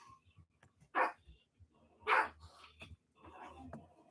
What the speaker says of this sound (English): Don't mind the dogs in the background or crazy dogs.